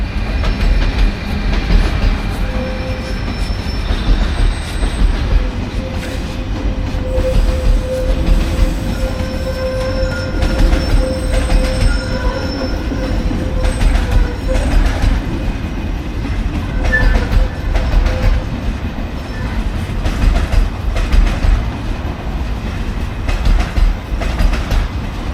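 A train rumbles steadily along the rails nearby at an event in Brno, with rhythmic clacking over track joints and occasional high wheel squeals throughout.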